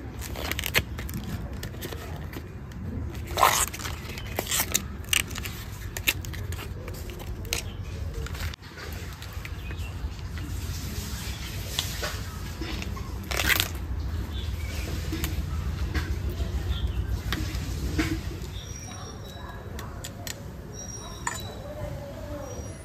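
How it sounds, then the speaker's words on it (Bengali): Banana flower bracts are peeled by hand in a kitchen, giving soft creaks, snaps and crisp tearing sounds in scattered bursts, with quiet background noise throughout. "আমি এদিকে মোচাগুলো ছাড়িয়ে নেবো"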